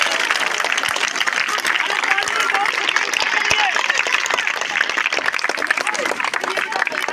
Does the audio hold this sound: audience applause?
yes